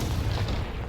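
A Confringo fire spell bursts in Hogwarts Legacy, a dense low booming blast that rumbles and slowly decays across about a second, loud and close, with no voices over it.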